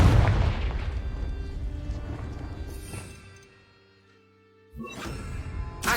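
A blasting-spell explosion in Hogwarts Legacy, a heavy boom that rumbles and fades out, followed after a short pause by another burst of crackling impact, with no talking.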